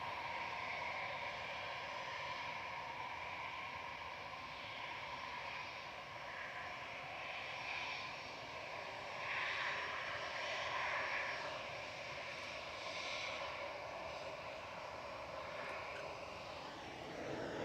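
Lufthansa Airbus A319 on a flight to Frankfurt, its engines giving a steady, moderately distant roar that swells slightly midway, heard alone without voices at an airport.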